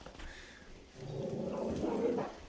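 A dog whines in a drawn-out, close, wavering whimper that rises after a brief quieter moment and holds for about a second and a half before fading.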